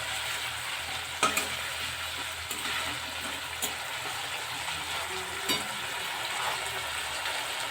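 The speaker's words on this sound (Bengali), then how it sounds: "মশলা একে একে দিয়ে দিলাম এবং মশলাটা ভালো করে কষিয়ে নিতে হবে" Shredded cabbage fries with garam masala and meat masala in a hot pan, a steady close sizzle with the occasional scrape of stirring, continuous and without talk.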